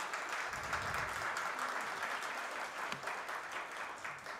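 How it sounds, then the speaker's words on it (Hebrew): Conference audience applauds steadily at an international judicial independence event at Hebrew University in Jerusalem, a sustained, fairly distant wash of clapping with no talk over it. "אפשר לתת מחיאות כפיים כבר עכשיו."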